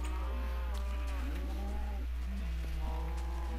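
Several cows moo in a video game, overlapping low, drawn-out calls that rise and fall one after another at moderate loudness over a steady low hum.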